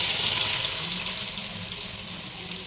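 Sliced onions sizzle and fry steadily in a hot pan for a Kerala beef curry, a continuous loud hiss of frying with no talk.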